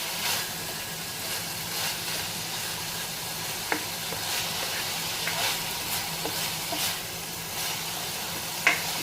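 Pork fat sizzling in a pan as it renders into oil for adobo, a steady close frying hiss with occasional sharp pops and spatters, with no talking.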